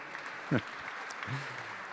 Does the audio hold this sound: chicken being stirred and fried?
no